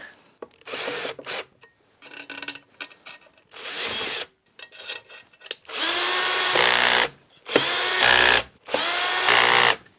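Power drill driving M5 by 40 mm screws into the frame of a Mecpow X5 Pro 33W laser engraver, beginning with short stuttering bursts and ending in three long, loud whirring runs separated by brief pauses; no one speaks.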